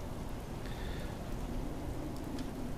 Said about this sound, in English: As you can see, it's raining down here.